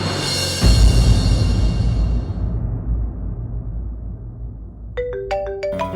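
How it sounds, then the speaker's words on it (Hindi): A deep rumble fades away, and then a phone ringtone starts up with a bright, repeating melody. "पापा का फोन।"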